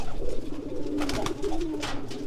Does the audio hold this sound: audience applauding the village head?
no